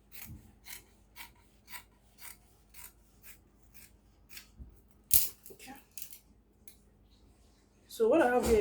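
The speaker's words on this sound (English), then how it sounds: "the next thing to do is to cut this piece out" Scissors cut a fabric piece for a gown in a steady series of soft, close snips, followed by a sharp click, a rustle and a brief voice at the end.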